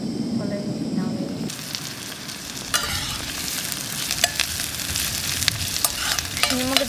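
Food sizzles steadily in oil in a pan over a campfire in a forest while chili con kiełbasa is cooked, crackling close and continuous with occasional stirring.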